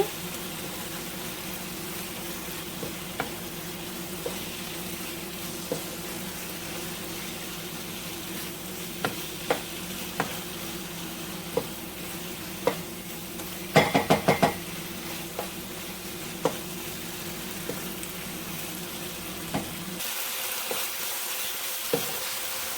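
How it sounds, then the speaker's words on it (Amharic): Korarima and black pepper being stirred in a pan while cooking Ethiopian vegetable pasta: a quiet, continuous low sizzle broken by scattered soft clicks of a utensil against the pan, with a short cluster of clatter midway. "ኮረሪማ እና ግማሽ ሻይ ማንኪያ ቁንዶ በርበሬ እጨምርና አንድ ላይ አበስለዋለሁ አማስዬ።"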